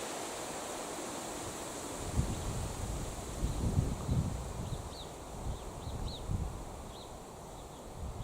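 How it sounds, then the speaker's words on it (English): Wind blows steadily outdoors as a low, broad rumble with gusty swells and microphone buffeting, while faint bird chirps sound in the distance. "Listen to that wind."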